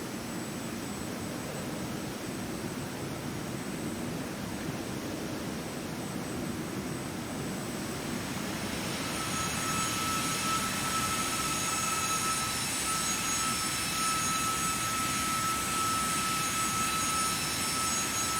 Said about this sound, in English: Okay, so gears are going down.